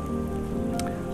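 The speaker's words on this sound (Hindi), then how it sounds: "आज बारिश कल रात से बहुत ज़्यादा हो रही है" Heavy monsoon rain pours steadily onto a surface, a dense, continuous patter that stays loud and even throughout the brief stretch, with no voices.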